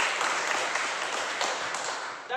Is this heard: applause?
yes